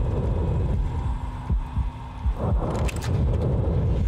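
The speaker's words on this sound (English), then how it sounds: "And this heart beating?" Slow, heavy heartbeat thuds from Silent Hill 2 Remake, a survival horror game, pulsing low and close over a dark hum with scattered crunching and creaking noises.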